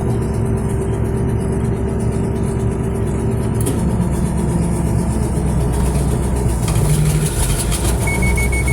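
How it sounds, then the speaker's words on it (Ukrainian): A Don 1500B combine's threshing machine running at a steady 1000 rpm, its engine droning and rattling continuously at close range, loud and unbroken throughout. "оце я на 1000 включаю молотарку"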